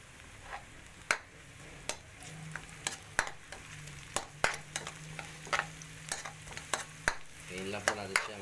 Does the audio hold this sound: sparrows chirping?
no